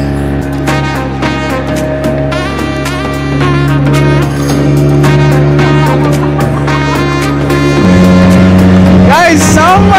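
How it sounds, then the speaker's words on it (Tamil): A speedboat heading to Neil Island in the Andaman Islands gives a loud, steady engine drone that never breaks. The drone swells and roughens toward the end, and voices are faintly present over the roar. "நெக்ஸ்ட் நாங்க ஸ்பீட் போட்ல போயிட்டு இருக்கோம்."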